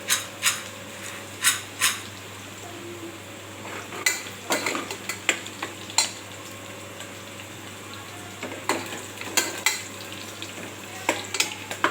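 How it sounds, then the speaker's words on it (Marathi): Onion and garlic sauté in a pan, a low steady sizzle under repeated sharp metallic taps and scrapes from a spatula stirring, close and without speech. "असं मस्त कांदा परतून घ्यायचा कांदा लसूण ठेवून"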